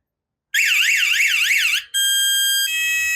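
A loud Dahon electronic bicycle anti-theft alarm, rated up to 130 dB, shrieks, first a fast warbling siren, then after a brief gap a steady piercing tone that shifts pitch once.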